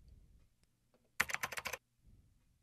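A short burst of rapid typewriter typing clicks, lasting about half a second, set against near silence.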